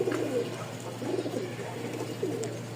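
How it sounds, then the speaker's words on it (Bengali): A male Giribaz pigeon gives soft, repeated cooing calls close by, low throaty phrases recurring over a steady background hum. "আমি আবার নটটার ডাক দেখাই।"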